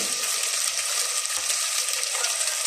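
Green chillies, mint and coriander sautéing in a pan, a steady bright sizzle with faint stirring scrapes underneath, close and continuous, with no voices.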